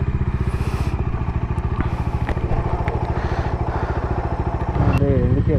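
A 2020 Bajaj Dominar 250 BS6 motorcycle engine runs close by with a steady, rapid thumping pulse that rises slightly near the end, while someone speaks over it.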